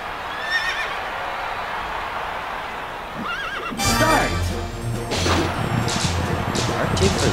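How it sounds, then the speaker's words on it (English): Horse race in the Wii Party Derby Dash game: after a quiet stretch, galloping hooves and whinnying neighs burst in loudly, with game music and cheering sounds continuing to the end. "It's Derby Dash time. It's time for a horse race."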